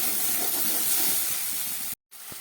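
Ginger, garlic, onion and green chilli sizzling in hot oil in a pan, a steady close hiss that cuts out abruptly near the end.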